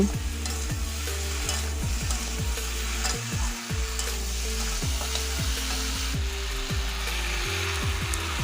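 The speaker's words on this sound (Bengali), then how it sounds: "এবার এটাকে আরও কিছুক্ষণ ভালোভাবে একদম মিডিয়াম আঁচে কষিয়ে নেব" Fish curry with turmeric is stir-fried on medium heat, with a steady loud sizzle and fry and regular scraping strokes of the spatula in the pan, close and continuous with no talking.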